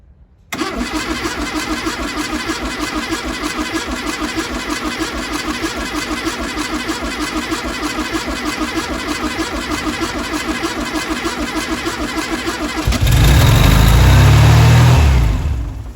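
A 1971 Volkswagen Karmann Ghia that sat unused for over twenty years, fired up after its cracked fuel lines were replaced: a long steady engine drone near the mic, swelling into a louder, deeper rev near the end.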